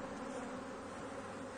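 A steady, dense buzzing of many honey bees swarming close by at a hive, continuous and unbroken with no voices.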